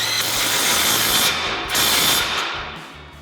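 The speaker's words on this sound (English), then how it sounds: "your 15 mil socket on your impact. Just want to tighten these down." An impact wrench with a 15 mm socket tightening exhaust clamps on a RAM 2500 gives a close, loud, steady rattling hammer for about three seconds, with a short dip partway through.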